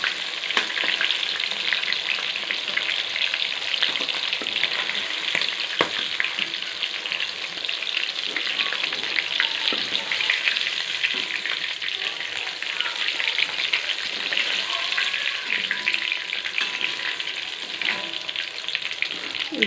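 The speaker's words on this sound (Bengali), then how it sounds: "আমার পকোড়াটা ভাজা হয়ে গেছে। এবং পকোড়াগুলো সব এক এক করে তুলে নেব।" Pakoras for chilli chicken are deep frying in plenty of hot oil, giving a steady, loud sizzle with small bubbling crackles that runs throughout without speech.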